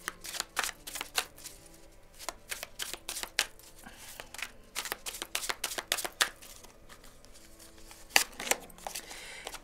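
Oracle cards shuffled by hand in quick bursts of crisp, riffling clicks and slaps, close and fairly quiet, with no talking over them.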